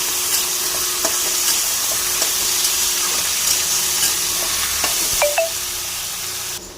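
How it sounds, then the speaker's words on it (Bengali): Potatoes and onions frying together in a pan, a strong steady sizzle with a low hum beneath and a few scraping clicks of a stirring utensil near the end, no voices. "এবার আলু ভালো করে পেঁয়াজের সাথে ভেজে নেব"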